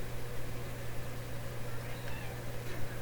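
A domestic cat meows nearby against a steady low electrical hum that persists throughout.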